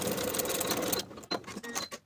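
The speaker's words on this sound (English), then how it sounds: "Sew the short edges with a 3/8 inch seam allowance." A sewing machine runs a short seam along the short edges of a cardigan facing, a steady whir for about a second before fading into quieter handling noises.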